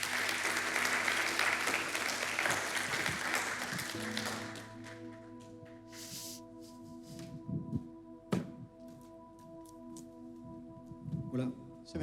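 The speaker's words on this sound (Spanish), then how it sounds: "le recibimos con un fuerte aplauso" Strong applause from a church audience welcoming a speaker to the front, loud for several seconds and then fading into scattered claps and room noise with sustained musical tones underneath.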